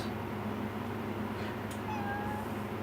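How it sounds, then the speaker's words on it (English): A cat meows in the video game Final Fantasy XV, a few short calls heard fairly close over a steady hum of game ambience and music, with no talking. "There's a quest from a cat."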